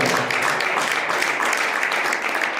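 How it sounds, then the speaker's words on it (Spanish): A church congregation gives a loud, sustained round of applause for Jesus Christ during a sermon, dense steady clapping filling the space without pause. "Denle un aplauso fuerte a Jesucristo"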